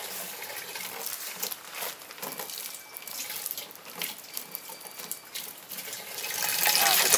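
An Ecolife solar-powered 12-volt water pump, run from a solar panel and moving about 14 liters per minute, sends a steady rushing stream of water splashing into a container, growing louder toward the end, with no talking.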